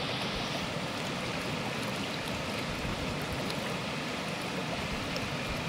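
Floodwater of the swollen Hiranyakeshi river pours over a submerged weir during heavy monsoon rain, making a continuous broadband roar of rushing water that holds steady and full throughout, with no voices.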